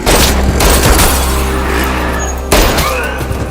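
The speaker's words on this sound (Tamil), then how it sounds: "துப்பாக்கி வச்ச ஒருத்தன் 3 பேர் சுட்டு கொண்டிருக்கான்." Gunfire in a film scene: loud, dense bursts of shots and booms fill the whole stretch, with a fresh heavy blast near the end and no talking.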